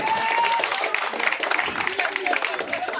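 Applause fills a Teachers' Day stage event as a guest is welcomed, a steady clatter of clapping running under a speaker's voice throughout.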